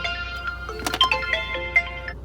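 A phone ringtone sounds inside a parked car for an incoming call, a short bright melodic sequence of distinct tones, fairly close and clear with no talk over it.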